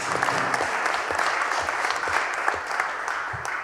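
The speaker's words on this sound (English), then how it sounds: "let's have a round of applause for our chiefs" Audience at an Assembly of Manitoba Chiefs gathering applauds the chiefs, a dense steady clapping from a sizable crowd that holds at an even level throughout.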